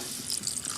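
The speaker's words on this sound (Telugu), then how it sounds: "గ్లాస్ వాటర్ వేసుకోవాలి" Running water pours steadily into a fish curry for a moment, a close, continuous trickle with no voices.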